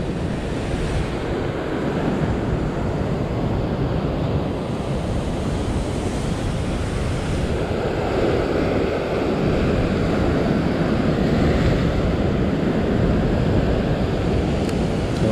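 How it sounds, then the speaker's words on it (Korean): Wind gusting across a seaside rock fishing spot, buffeting the microphone with a steady roar, while waves surge and wash against the rocks underneath, loud and continuous with no speech. "바람도 또 지금 불고 있기 때문에"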